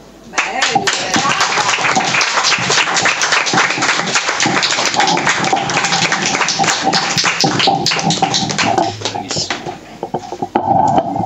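An audience claps after a book reading, a dense, loud round of applause that carries on throughout, with a voice speaking over the clapping.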